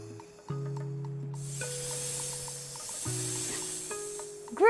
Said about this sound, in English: It's a snake.